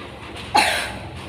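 A single sharp cough bursts out nearby, then trails off into quiet room noise.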